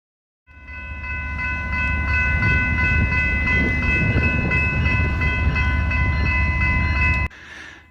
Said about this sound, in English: This eastbound Canadian Pacific freight train is exiting the current siding track west of Tower CK.